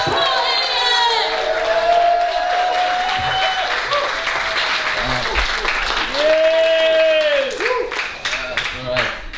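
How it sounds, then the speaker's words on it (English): At a comedy night at the Tobacco Factory, a loud audience claps and cheers as the final comedian is introduced, with whoops and shouts over dense, sustained applause that fades near the end. "Give the loudest cheer ever, and bring on Paul Hilliard!"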